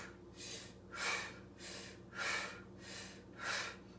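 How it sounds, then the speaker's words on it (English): Strong, rhythmic breathing during a twisting pranayama yoga practice, with forceful mouth inhales and exhales alternating about every half second, six breaths in all, close and clear with no talking. "And it's just a strong inhale and a strong exhale."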